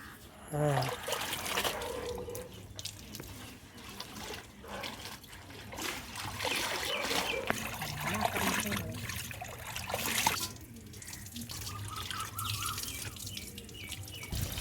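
Washed cotton clothes are rinsed in water at a village home, giving continuous splashing, trickling and dripping sounds close by, with voices talking intermittently over the water.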